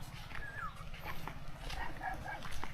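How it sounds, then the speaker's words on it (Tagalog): Dog barking at an abandoned lakeside resort, a few short distant yelps and barks scattered over steady low background hum, with no close sounds nearby. "Guys, may naririnig ba kayong aso?"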